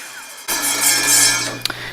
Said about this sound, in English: we've got our anti-chip strip cut the entire way down through there